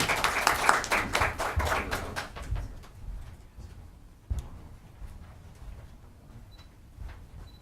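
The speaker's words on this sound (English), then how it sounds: "Round of applause." A round of applause at a Dawson Creek city council meeting, a small room of hands clapping briskly for a couple of seconds, then fading into quiet room noise with a sharp knock and faint scattered sounds.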